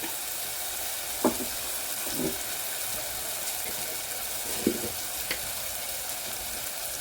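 Tomatoes simmering in a turmeric gravy give off a steady low sizzle and bubble on low heat, with a few soft spoon knocks against the pan.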